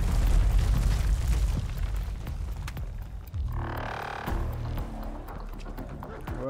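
A missile explodes in Black Ops Cold War Zombies (Onslaught mode): a heavy low boom at the start, then rumbling blasts and a hissing burst midway, with game effects continuing throughout.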